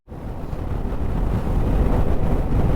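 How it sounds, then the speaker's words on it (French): Strong north wind in Iceland buffets the microphone in a steady, roaring rumble that builds slightly, with a broad hiss over it and no voices. "il y a beaucoup de vent aujourd'hui, un vent qui vient du nord"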